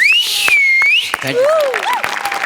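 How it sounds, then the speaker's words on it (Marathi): A studio audience at a Marathi comedy show lets out loud, shrill whistles that rise and fall, joined by bursts of applause and crowd noise throughout. "तुझ्यासाठी परत एकदा शिट्टी"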